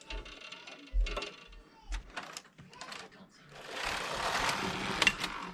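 A Passap E6000 knitting machine carriage sweeps a row, a loud rattling mechanical whir in the last second and a half after scattered softer clicks and knocks.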